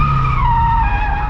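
Modified Scion FR-S drifting with the e-brake, tires squealing in one loud sustained screech over a steady engine roar, close and unbroken for just over a second.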